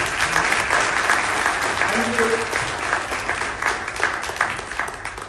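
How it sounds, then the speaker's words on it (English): A large audience applauds the Indian Air Force during a political speech in Singapore, a steady dense wash of clapping filling the hall for several seconds, with faint voices briefly audible beneath it. "I would like all of you to give a great round of applause for Indian Air Force."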